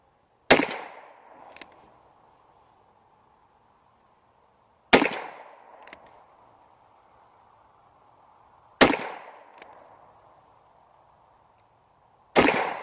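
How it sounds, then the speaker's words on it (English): Four sharp, loud shots from a Ruger Blackhawk .357 Magnum revolver, fired outdoors at evenly spaced intervals of about four seconds, each followed by a short echo or ringing tail. "Get it back here where folks can see you shooting it, Jones."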